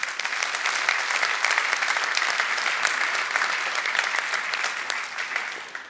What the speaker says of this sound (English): I'd like to give them a huge round of applause